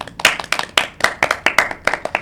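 A small group claps by hand, quick uneven slaps bunching into short bursts, close and fairly loud with no talking.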